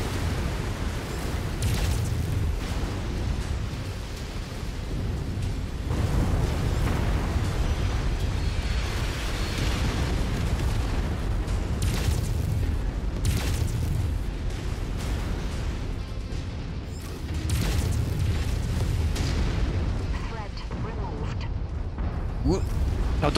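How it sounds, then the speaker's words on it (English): Artillery pieces are blown up in Mechwarrior 5, loud rumbling explosions and booming blasts recurring over a dense roar of combat, with a voice talking over the action. "There's some artillery. I'm gonna blow it up."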